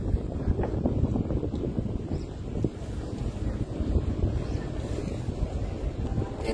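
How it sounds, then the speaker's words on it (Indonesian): Motor car ferry KM Sumut 1 arriving at Tigaras harbour from Simanindo, Samosir: a steady low rumble of engine and water, heavily buffeted by loud wind noise throughout, with no voices. "kapal motor Sumut 1 sudah mendarat di Pelabuhan Tigaras dari Pelabuhan Simanindo"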